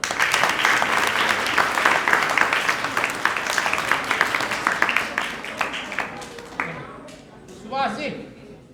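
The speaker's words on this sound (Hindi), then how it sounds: "तालियां।" Applause at the opening of a computer center, a crowd clapping steadily for several seconds before it thins out, with voices talking underneath and after.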